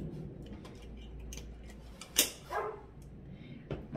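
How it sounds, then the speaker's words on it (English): Dogs playing outdoors give a few short, distant barks that carry faintly indoors into a home kitchen, sporadic against a quiet background. "My dogs are playing with the boys outside, so you're gonna hear barking"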